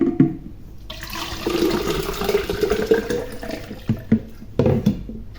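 Tap water running into a water bottle, a steady rushing pour for several seconds followed by a few short splashy bursts as the flow is adjusted, close and fairly loud.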